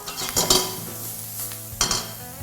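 Shrimp frying in a wok for Hong Kong-style fried noodles, a close sizzle broken by a few sharp scrapes and clanks of a spatula against the metal pan.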